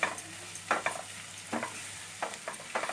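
Spice paste sautéed in a pan for a Bengali shrimp dish, a soft continuous sizzle broken by a handful of scraping stirs about half a second apart, close and moderate, with no talking.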